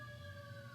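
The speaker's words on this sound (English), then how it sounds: "We got sirens outside." Emergency vehicle sirens sound outdoors in downtown Fullerton, a faint, steady wail held for under a second with no speech.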